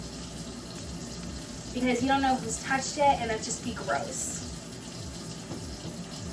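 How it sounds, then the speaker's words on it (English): Kitchen tap water spraying steadily as bananas are washed, a continuous hiss and splash running beneath a voice talking over it. "Now it's spraying, so spray it really good and wash your fruit."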